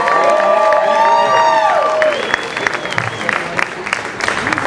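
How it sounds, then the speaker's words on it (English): Audience applause and cheering at a live variety show, loud and close, with a voice singing over it at first before the crowd noise carries on alone. "Let's clap it up for Teresa and Dave"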